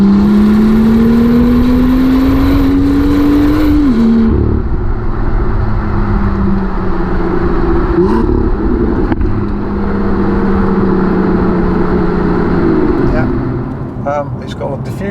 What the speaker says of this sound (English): Standard exhaust, it sounds well.